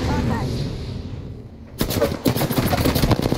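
Apex Legends gunfire from a video game: a steady rumble gives way after a moment to dense rapid-fire bursts and sharp shots, loud and close, with faint talk underneath.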